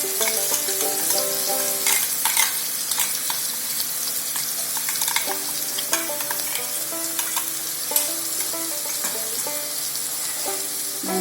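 Ground coconut paste frying and sizzling in two spoons of coconut oil for a Kerala coconut curry, with a spoon scraping and stirring through the pan in a steady clatter over a constant sizzle.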